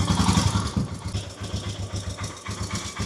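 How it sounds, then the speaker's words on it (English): A Royal Enfield Himalayan 411 motorcycle idles with a charging fault, its single-cylinder engine thumping in a steady, even low pulse, close and fairly loud, with no voices. "The bike is on idle"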